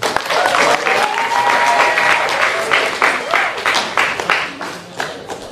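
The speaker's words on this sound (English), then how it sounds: "let's give it up one more time for everybody who presented today" An audience claps and cheers at the Contra Costa College African American Male Leadership Symposium, a loud sustained round of applause with whoops riding over it, thinning slightly toward the end.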